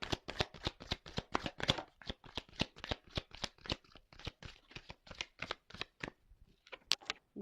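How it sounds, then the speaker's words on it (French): Tarot cards are handled and shuffled in quick, rhythmic riffles and slaps, a dense run of close crisp card snaps that keeps a steady pace before thinning out at the end. "attendez, je prends les cartes"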